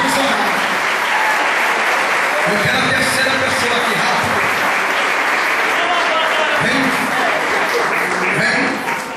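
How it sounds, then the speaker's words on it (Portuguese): A church congregation applauding loudly and continuously, a dense clapping wash under a preacher's amplified voice. "Aplaude ao Senhor bem forte."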